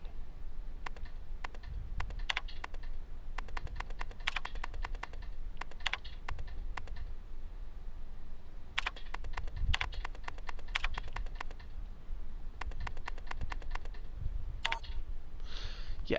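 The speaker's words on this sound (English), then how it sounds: "it's an old, elegant typewriter" Rapid clacking keystrokes of an old, elegant typewriter in the survival horror game Daymare 1998, tapped in quick bursts with short pauses over a low ambient hum, close and fairly quiet, no voices.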